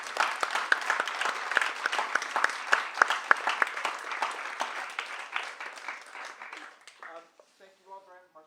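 Audience clapping after a poetry reading, a moderate crowd's applause with distinct individual claps that thins out over several seconds, followed by someone speaking briefly as it fades.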